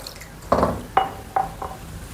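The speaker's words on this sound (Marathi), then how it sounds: "हे आपण पाणी टाकून परत थोडंसं धुवून घेणार आहोत." Chhena being rinsed with water in a pot at home while making rasgulla: four short splashy clinks and pours, each a quick burst of water and contact with the vessel, spaced about half a second apart, close and clear with no talking.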